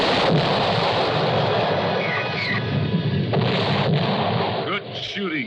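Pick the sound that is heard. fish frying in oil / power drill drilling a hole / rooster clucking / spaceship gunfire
spaceship gunfire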